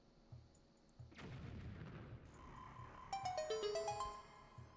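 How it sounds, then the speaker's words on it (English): A bomb detonates in Zelda: Wind Waker HD with a loud, sharp blast that rolls into a sustained rumble, then a bright chiming jingle rises over the fading noise. "So let me get my bombs out. Place one right here. And wait for that explosion."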